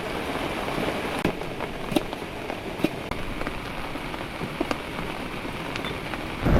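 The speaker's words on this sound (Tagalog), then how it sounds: "Tingnan nyo, inulan na kami dito sa Coto Mines." Steady rain falls across a campsite at Coto Mines in Masinloc, Zambales, a dense even hiss of drops with a few sharper taps and plinks on nearby surfaces, no voices.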